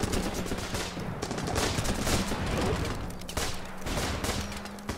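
Rapid gunfire from the video game Running with Rifles, bursts of rifle and machine-gun shots crackling almost continuously and fairly loud for several seconds with brief lulls between volleys.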